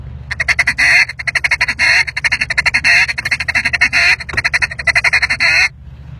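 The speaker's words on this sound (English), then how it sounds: "Drag quacks, I'm assuming you're talking about" A duck call blows a long run of rapid drag quacks, raspy nasal notes tumbling in quick rhythmic bursts with brief pauses between rolls, loud and close with no talking.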